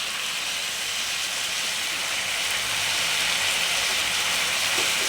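Spinach greens drop into a hot frying pan of cooked-down vegetables and turmeric, setting off a loud, steady hissing sizzle that builds slightly and carries on without a break, with no talking.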